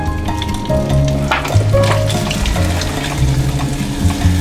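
Food sizzling in a warm pan in a galley aboard a liveaboard boat, a loud continuous close sizzle with splashy, watery crackle and some clatter, no talk.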